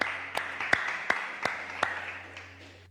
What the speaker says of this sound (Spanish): ¿Por qué no le damos una ofrenda de palmas a Jesús?